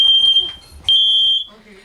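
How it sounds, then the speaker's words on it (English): Ionization smoke detectors shriek during a flaming fire test, a steady piercing high electronic tone in two long bursts split by a short gap, loud over faint background noise. "it wasn't long before alarms were sounding, and not just one, all 3."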